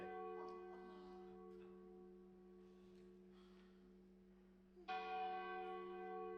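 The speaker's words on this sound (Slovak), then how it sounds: "Nový zvon!" A church bell rings out during an amateur stage play, with a long, humming resonant tone, then a fresh, brighter strike near the end; fairly distant and steady.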